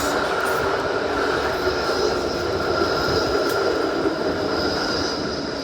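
A very quiet tram rolls past on a former train line in St Kilda, Melbourne, giving a steady low rumble and hum with faint rail noise throughout and no voices.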